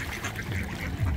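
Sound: ducks quacking

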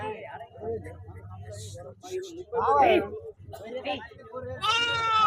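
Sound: sheep bleating at Siddipet market

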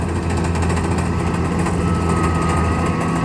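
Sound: combine harvester engine running

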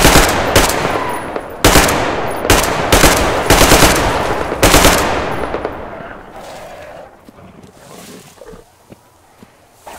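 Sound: powerful gun firing in video game Metro Exodus

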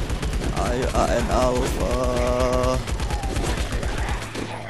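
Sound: gunfire from the video game LifeAfter

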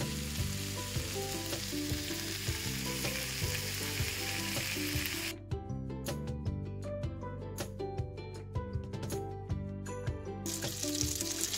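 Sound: leberkäse and leek frying in oil in a pan

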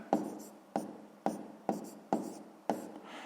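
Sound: pen writing on paper during a math exercise

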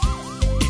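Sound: police car siren

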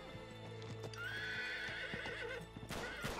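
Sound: horse neighing and hooves in the video game Uncharted 3

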